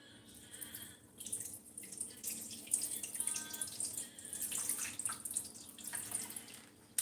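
Bottled water poured into a LetPot hydroponic growing system's reservoir, a close, uneven splashing and gurgling pour that swells and ebbs over several seconds, with brief pauses and no talking.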